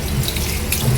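Tap water gushes steadily into a sink while pork is rinsed, a loud, close, continuous splashing rush with no voices.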